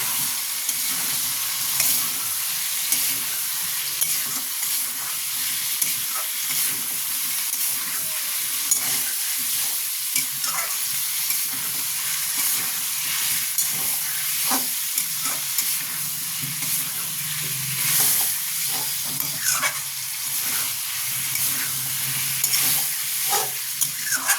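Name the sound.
sautéing chicken stew with beans and papaya in a pan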